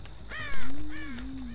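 Crows cawing in the horror game Dead by Daylight, a couple of harsh, clear caws close by with a rising tonal call over low ambient game noise.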